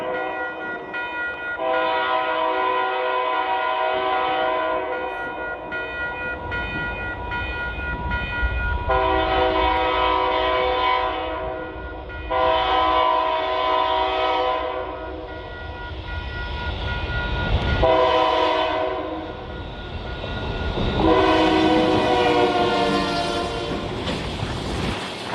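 An NECR freight train, led by a GP38-2 with a C40-8 trailing, sounds its horn in long repeated blasts from a nearby crossing as the crossing bell rings and the train rumbles closer, growing louder.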